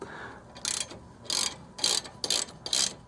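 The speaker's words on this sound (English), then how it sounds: "you put a 14mm socket on this particular bolt" A ratchet wrench clicks in several quick bursts as a 14mm socket turns a bolt on a Toyota Yaris drum brake, close and crisp with short pauses between strokes.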